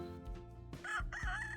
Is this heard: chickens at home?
yes